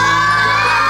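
Children at a football celebration shout and cheer for a goal, a loud, close burst of young voices crying out together.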